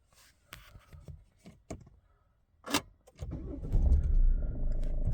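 A 2021 Vauxhall Mokka started with the clutch pressed: a few scattered clicks and a key rattle inside the cabin, then the engine cranks, catches and settles into a loud, steady low idle.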